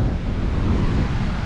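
Strong, gusty wind roaring against the microphone by the seashore, loud and continuous with a deep rumbling buffet.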